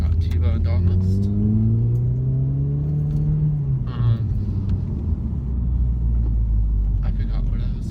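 A Maserati drives past close by, its engine rumbling loudly with a rising then falling tone as it approaches and pulls away, amid steady road noise.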